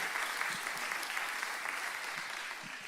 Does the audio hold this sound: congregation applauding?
yes